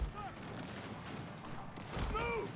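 Scattered musket volleys and distant gunfire from an American Civil War battle video game at First Battle of Bull Run, faint and rolling, with a few sharper shots near the end.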